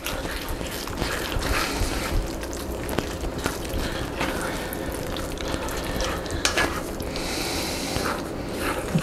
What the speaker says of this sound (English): You can just see the cheesiness as you're stirring that around